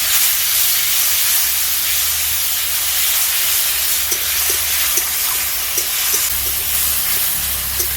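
Ground onion, chili and tomato paste sizzling loudly in hot oil for an egg curry, a dense, steady hiss with a few faint clicks from the pan, close and continuous.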